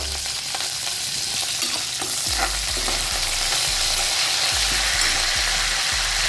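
Steady, loud sizzling of chopped coriander hitting hot tempering oil, with broadband crackle and occasional low stirring thumps throughout.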